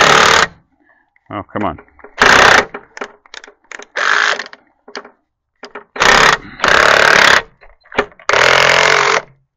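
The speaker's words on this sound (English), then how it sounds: "The old Walmart special, Black & Decker, is almost done." An old Black & Decker power tool works on rusty bolts set in aluminum channel on a cabover parts truck, running in loud, abrupt bursts of a second or so separated by silences, close up, with someone briefly speaking in between.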